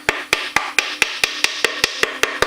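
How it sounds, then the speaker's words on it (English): A small hammer taps off the starter cover of a Honda Fourtrax 300 ATV engine, about a dozen sharp, evenly spaced metallic knocks at close range with nothing else heard. "See if I've got a little hammer over here to tap this thing off of here."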